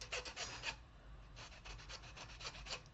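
Metal hand file rasping across a rough part during a custom water-cooled PC build, in steady back-and-forth strokes that come in two bursts with a short pause between, close and moderately loud.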